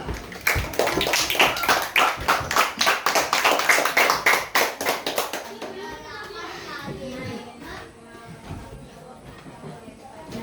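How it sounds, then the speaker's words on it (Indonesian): A primary-school class of children claps hands together in a classroom, a burst of loud, quick, fairly even claps lasting about five seconds before fading into quieter room noise and faint voices. "Tepuk tangan dulu."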